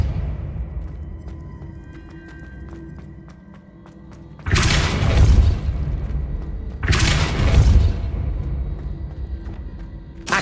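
In the video game Hogwarts Legacy, the Depulso spell goes off twice, each cast a heavy booming whoosh with a thudding impact and rumbling tail, separated by a few seconds of quieter game ambience with faint tonal chimes.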